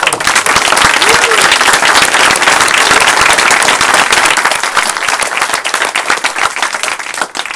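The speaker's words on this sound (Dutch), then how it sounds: "nou dus even een applaus voor ons team nou" A room of people applauding a team at the close of a presentation, dense sustained clapping that stays loud throughout and thins slightly near the end, with some voices mixed in.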